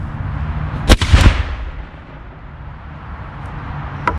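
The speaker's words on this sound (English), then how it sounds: "demonstration on the difference firing via gun lock versus linstock makes in timing, to demonstrate the advantage gun locks had in accurately firing a gun" Cannons are fired with a gun lock and a linstock: two deep, heavy booms go off in quick succession, then a long rumbling echo fades away, with a faint click near the end.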